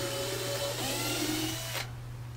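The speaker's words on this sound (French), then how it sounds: "Je tiens les 2 pièces en même temps, comme ça pour le perçage, ça va aller beaucoup plus vite." A drill bores through two pieces of wood held together, its steady motor whine running close and fairly quiet for under two seconds before cutting off.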